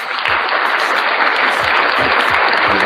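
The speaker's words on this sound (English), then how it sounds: "Round of applause for y'all in the building." Loud, steady audience applause fills a comedy club or small live venue, a continuous wash of clapping with no talk over it.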